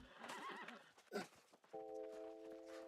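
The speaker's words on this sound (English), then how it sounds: "I hear a horse." Horse in the New World video game neighs loudly with a wavering whinny at the start, then a short snort, followed by a steady tonal in-game sound alongside soft hoof clops.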